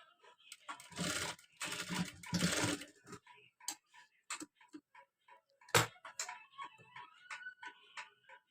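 A sewing machine runs long stitches along the front part of a blouse, a few short loud whirring bursts separated by quieter ticking and small clicks of fabric handling.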